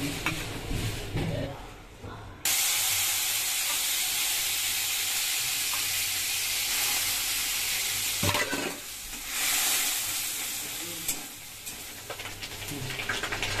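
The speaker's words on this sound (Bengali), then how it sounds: "রান্না করব তার জন্য কড়াইয়ে দিয়ে দিলাম আমি অল্প করে তেল" Rohu fish fat sizzles loudly in a little oil in a wok, a steady bright hiss that starts abruptly and carries on with brief stirring scrapes and dips.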